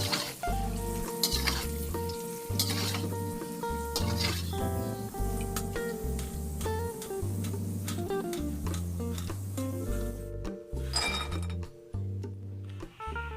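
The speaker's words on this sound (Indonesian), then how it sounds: "kacang tanah itu nggak boleh didiemin ya, harus terus aduk-aduk gitu, biar matangnya merata" Peanuts dry-frying in a pan are stirred without pause, giving a steady run of clinks and scrapes with light crackling beneath a loud, steady musical bed.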